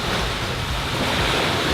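Strong sea wind with surf, blowing too hard for kitesurfing, roars as a loud, steady, broadband rush with heavy microphone buffeting throughout and no voices.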